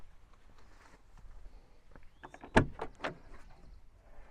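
An Ineos Grenadier door is worked with a short whirring glide followed by a sharp solid latch clunk and a second softer knock, close up and otherwise quiet.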